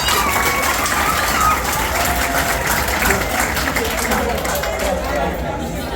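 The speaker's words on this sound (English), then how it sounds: "So clap for yourself." Sustained applause from an audience at a high school event fills the room, a steady dense wash of clapping with crowd murmur underneath, loud and even throughout.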